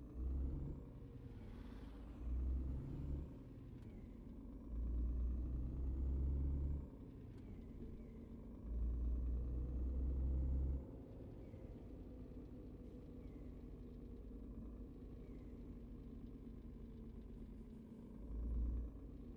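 Truck in a driving simulation game heading to refuel, its engine rumbling steadily throughout with periodic louder low surges as it accelerates, plus faint mechanical whines and occasional short clicks over the drone.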